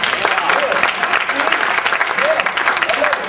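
A comedy club audience claps and cheers loudly in a continuous dense burst, with crowd voices mixed into the applause.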